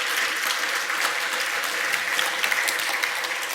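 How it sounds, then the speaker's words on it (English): Audience at a NixCon conference talk claps in steady, dense applause that runs for the whole stretch, loud and close, with no voices over it. "I do want to have one last round of applause for all the organizers and everyone that took part."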